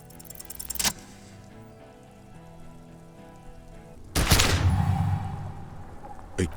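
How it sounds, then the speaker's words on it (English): A gunshot in the video game Disco Elysium erupts as a sharp, loud blast with a crackling, ringing tail over a low ambient game score, after an earlier brief burst. "A plume of smoke and fire erupts from the gun"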